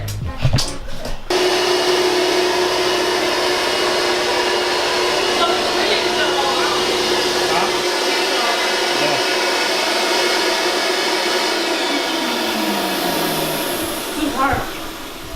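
A carpet cleaning machine runs over a stained carpet, its loud, steady motor whine continuing nearly unbroken from start to finish, close to the listener.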